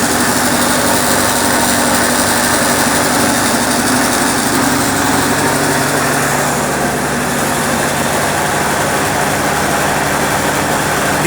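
A heavy-duty 7.5 HP single-phase motor drives a flour mill, producing a loud, constant roaring engine-like drone with a steady hum, unbroken for the whole stretch.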